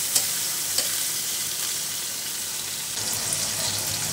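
Chilled onions taken from the fridge fry in hot oil in a pan, giving a close, even sizzle broken by a couple of soft spatula knocks as they are stirred, with no voices.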